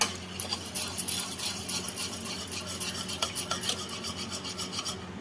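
A spoon stirs yogurt and water in a bowl, giving quick rhythmic scraping and rubbing strokes that repeat steadily up close, without speech.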